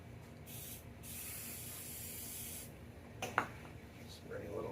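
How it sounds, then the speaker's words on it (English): Metallic aluminum-chrome spray paint hisses from an aerosol can into a cap, a steady close spray lasting a few seconds before stopping, followed by faint handling noises and light background sounds. "Spray a little in there."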